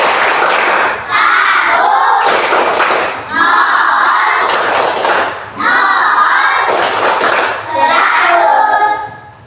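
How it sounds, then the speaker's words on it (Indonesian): Schoolchildren in an elementary classroom perform the 'tepuk 100' clapping chant. Loud bursts of rhythmic group clapping alternate with shouted, chanted children's voices in four repeating cycles. "kita beri tepuk 100 untuk Atma dan Aprilia."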